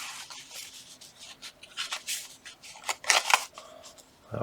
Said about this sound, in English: We'll shuffle these up a little bit.